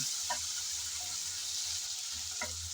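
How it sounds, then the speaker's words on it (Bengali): Ginger and garlic paste fries in a pan with a steady, hissing sizzle close by. A few soft scrapes of stirring can be heard, and nobody speaks. "তারপর রসুন বাটা আদা আর রসুন দিয়ে আবারও একটু নেড়ে চেড়ে ভেজে নেব"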